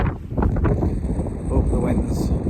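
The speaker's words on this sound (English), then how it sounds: "The wind's starting a little bit there." Strong gusts buffet a microphone on a Snowdonia mountainside in a winter storm, a rough low roar that swells and eases, loud and close, with a person speaking faintly beneath it.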